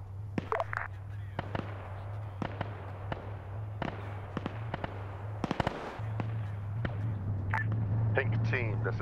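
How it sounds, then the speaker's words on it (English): An MG3 machine gun fires in a military video game, heard as scattered sharp cracks and short bursts at a distance against steady background noise. "Underbred's up here with an MG3 from the sound of things."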